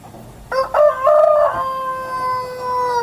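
A rooster crows once, a long drawn-out call that rises and then holds, heard fairly close against quiet outdoor background.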